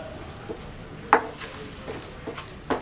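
A spoon scrapes and taps in a pan while cashew powder is stirred into a chocolate mixture, with faint irregular clinks and scrapes, one sharper knock, over a quiet background.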